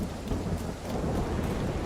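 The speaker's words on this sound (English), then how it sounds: "it's going to be dark and rainy." Rain and rolling thunder in a video game, a dense continuous wash of heavy rainfall with low rumbling underneath, no talking.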